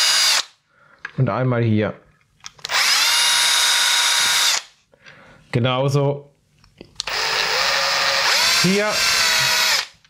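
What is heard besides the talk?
power drill drilling with a 1 mm bit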